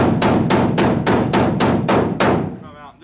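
A body hammer works down high spots on a pickup truck's bed side panel: eight evenly spaced, sharp metallic blows in quick rhythm, loud and close, with a brief ringing tail after the last strike.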